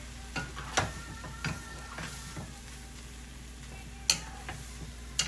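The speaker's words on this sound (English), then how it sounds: "we have to stir fry it like that" Egg fried rice seasoned with soy sauce and pepper is stir fried in a pan, a steady low sizzle broken by sharp clacks of a utensil scraping and tossing, close and clear with no talking.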